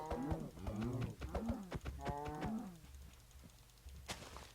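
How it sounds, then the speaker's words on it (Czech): Cows in the Minecraft video game moo several times in quick succession, a string of drawn-out game-sound lows followed by a short sharp click. "A já jdu zabít kravičky."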